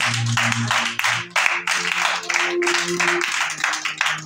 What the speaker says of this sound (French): Je veux que tu acclames le Seigneur.